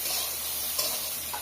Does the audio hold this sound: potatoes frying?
yes